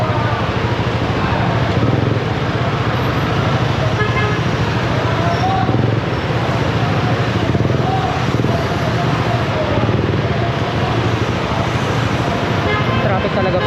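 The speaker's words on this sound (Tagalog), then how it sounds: "Traffic talaga parte dito sa may Pasay Rotonda." Dense city road traffic at the Pasay Rotonda roundabout, heard from a scooter, with a steady wash of engines, a large truck alongside and occasional horn toots; a voice talks over the continuous roar.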